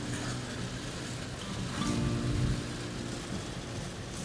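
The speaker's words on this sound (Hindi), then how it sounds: "बहुत तेज बारिश स्टार्ट हो गया है, कुछ दिख भी नहीं रहा है" Heavy rain hisses steadily over a car driving at moderate speed on a highway, a dense even wash with faint road rumble underneath.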